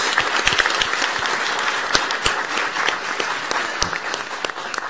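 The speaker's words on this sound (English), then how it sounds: "Round of applause for Mrs. Gilbert." Steady, full applause fills a school board meeting room for a teacher receiving an award, many hands clapping continuously at close range without pause for several seconds.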